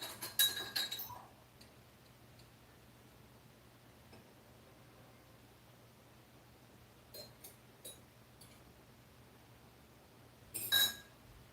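Glasses clink in a toast during a snack, a quick cluster of bright chinks at the start, a few faint taps midway, then another sharp clink near the end against a quiet background.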